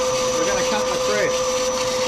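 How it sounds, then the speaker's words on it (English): A lathe cutting a BSF thread with a locked Coventry die head gives a steady, loud machining whine with a strong tonal hum, continuous and close, with a voice talking over it. "I've locked my Coventry die head, and this is how you cut a BSF thread this quick"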